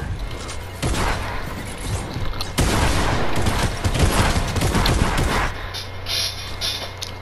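Gunfire in the video game Fortnite erupts in dense, loud bursts of rapid shots that run almost continuously for several seconds, then cut off abruptly, leaving a low hum.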